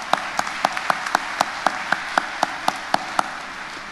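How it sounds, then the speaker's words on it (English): Sparse, scattered claps from a commencement audience at Elizabeth City State University, individual sharp hand claps at an irregular, slow pace over quiet room tone. "give the graduates a round of applause"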